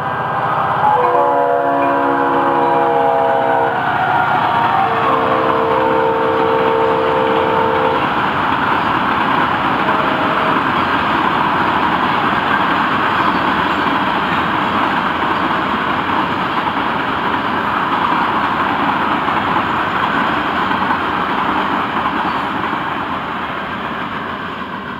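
A Florida East Coast Railway freight train of 29 loaded cars rumbles past continuously and loud, with a few horn blasts near the start, then a steady roar of rolling cars that slowly fades.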